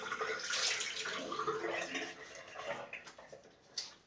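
Running water from a tap rinses shaving soap off during a wet shave, a close, soft splashing rush with small drips and shifting flow for a few seconds.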